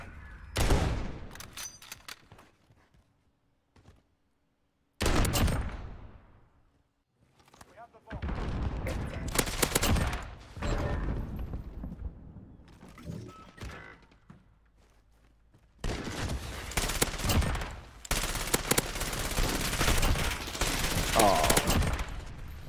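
Bursts of automatic gunfire from a video game gun, with dense rapid volleys separated by brief quiet gaps, loud and close, under occasional talk between players.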